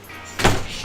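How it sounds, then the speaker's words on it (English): A door is pushed shut indoors, giving a single short, soft thunk that rises out of faint background noise and then fades. "Door shut."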